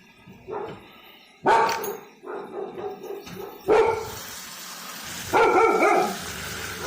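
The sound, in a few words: dogs barking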